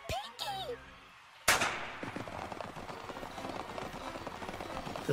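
A sudden loud gunshot effect from an animated pony cartoon episode, a single sharp blast with a decaying echo after a brief cartoon voice and a moment of silence, heard alongside a viewer reacting aloud.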